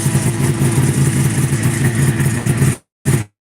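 A 1978 Arctic Cat Jag snowmobile engine, freshly running after a replaced vacuum signal line for the fuel pump, roars loud and close with a steady rough drone, then cuts out abruptly and gives one brief final burst.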